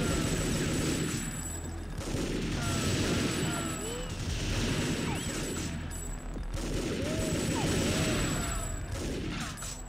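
Pistol gunfire in the PS2 shooter TimeSplitters, with repeated sharp shots cracking in loose clusters over a dense, loud game soundscape of echoes and effects.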